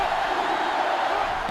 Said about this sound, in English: this crowd is going absolutely insane